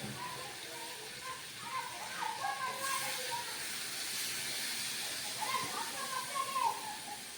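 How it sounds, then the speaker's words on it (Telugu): Water from a blender jar poured into a hot pan of cluster bean curry, setting off a steady broad hiss of steam that swells and fades over several seconds, with faint voices in the background. "కొంచెం వాటర్ వేద్దాము మిక్సీ జార్లోది."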